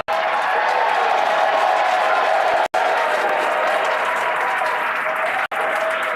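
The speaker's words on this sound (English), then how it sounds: "Crowds cheering here at SpaceX Mission Control Hawthorne" Packed room at SpaceX Mission Control in Hawthorne erupts in loud, continuous cheering and applause during a Falcon 9 booster landing, a dense roar of clapping and voices with two brief cuts.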